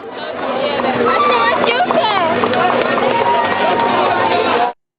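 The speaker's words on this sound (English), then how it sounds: "Just listen to this crowd of Muslims cheer as we are arrested" Dense outdoor crowd noise at an Arab festival, a continuous roar of many voices cheering and calling out during an arrest, loud and sustained throughout before cutting off abruptly near the end.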